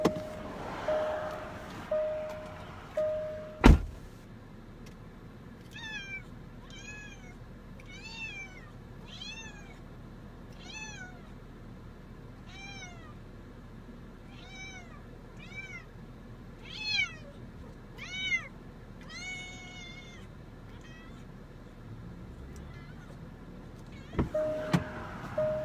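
A cat meows repeatedly inside a parked car, a series of short rising cries spaced a second or two apart over a quiet cabin hum, bracketed by a couple of sharp door or window clunks at the start and end.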